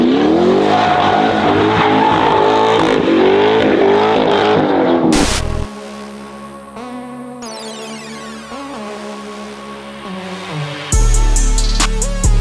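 Drift car being driven hard, a Porsche Turbo S set up with lowering springs and a new exhaust: loud engine revving and rising whine through gear changes, then abrupt cuts to other steady, droning engine and tire passages, close and continuous.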